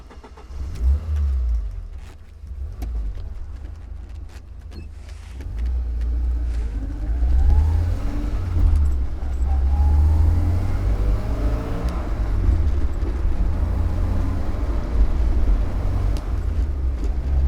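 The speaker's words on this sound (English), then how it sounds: "today we're driving an Alfa Romeo Spider Series 4" A 1990 Alfa Romeo Spider Series 4 drives past up close, its engine rumbling low and rising as it revs and accelerates, loud and steady with no talk.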